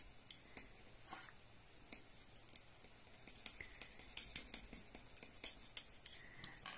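Pencil colouring on paper, a faint close scratchy rubbing with quick strokes and soft taps, steady and quiet throughout with no talk.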